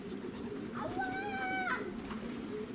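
Racing pigeon cooing outdoors during a race arrival, one soft rising call of about a second over a steady background hum, fairly faint.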